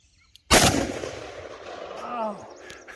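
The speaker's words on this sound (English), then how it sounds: "This is powerful gun." A single loud gunshot from a powerful handgun while plinking outdoors, a sharp close blast followed by a long decaying echo, with faint voices before it.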